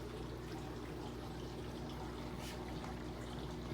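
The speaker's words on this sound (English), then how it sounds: "What you're hearing is the trickling of the media" Water trickles softly over filter media and down a DURSO standpipe in a bedroom 150-gallon fish tank, a faint, steady, continuous pouring with a low hum beneath.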